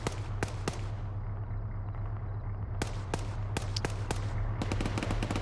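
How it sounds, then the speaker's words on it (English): Sharp gunshots from a video game infantry battle crack out in irregular bursts and single shots, loud and close, over a steady low rumble of engine-like background noise. "More gunshots going up."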